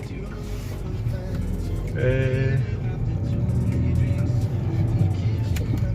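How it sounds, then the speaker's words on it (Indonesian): Steady low engine hum from inside a moving 2012 Kia Rio with manual transmission, fairly quiet and smooth, with a brief tonal whine partway through. "Suara mesinnya kalau dari dalam sih masih halus, jadi nggak terlalu bising kalau dari dalam mesinnya."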